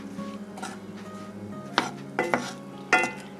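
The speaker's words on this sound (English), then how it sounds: "the idea here is just to stir up the apples" Apples stirred in a skillet for apple hand pies, with a few sharp spoon-on-pan scrapes and clinks standing out over a soft background hum, close and moderately loud.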